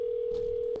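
A steady telephone dial tone hums without a break while a call is placed back, close and clear, with no talking.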